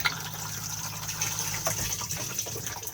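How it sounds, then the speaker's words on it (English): A cassette toilet in a 2019 Benimar Mileo 231 motorhome flushes with a steady close gush of running water lasting several seconds, with no speech over it. "push to flush"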